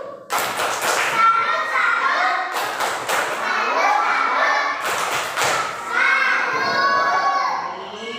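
Class 1 pupils do the 'tepuk salut' clapping chant in a classroom, three sharp clusters of many hands clapping separated by loud children's chanting voices.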